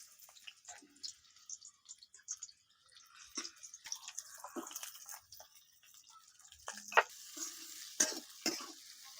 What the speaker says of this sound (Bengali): তেল গরম হয়ে গেছে, এর মধ্যে পেঁয়াজটা দিয়ে দিচ্ছি